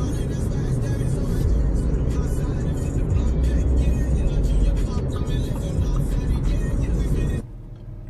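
A Porsche Boxster 986 cruising on the road gives a continuous low engine and road drone from inside the car, steady and fairly loud, ending with a sudden drop.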